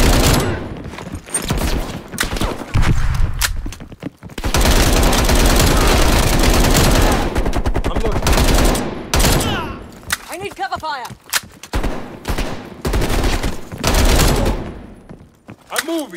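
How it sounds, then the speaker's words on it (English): Heavy bursts of automatic gunfire fill a Call of Duty Black Ops Cold War battle near Havana, Cuba, loud rattling volleys broken by short gaps and single shots, with soldiers shouting among the shooting. "Please, they're shooting at us."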